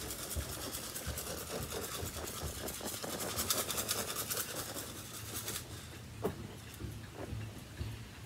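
A vintage Hoover vacuum cleaner runs steadily as it picks up scattered rice, with a continuous motor whir and brush hum. Faint ticking and rattling come through as grains are sucked in.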